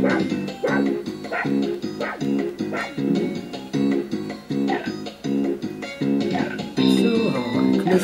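Repeated yapping barks from a dog in the 102 Dalmatians video game, a steady rhythmic series over background game music.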